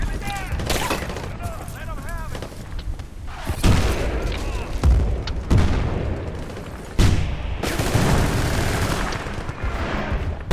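Battlefield: Bad Company 2 gunfire rattles in repeated bursts and heavy thumps, loud and close, with rapid shots stacking over one another.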